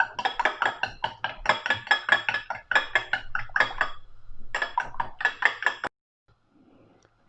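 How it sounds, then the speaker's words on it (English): Fork or whisk rapidly clinking against a bowl while beating a whole egg, quick metallic taps in bursts with short pauses, close up, ending in silence. "you get 1 egg, the whole egg, the white and the yolk, and whisk it"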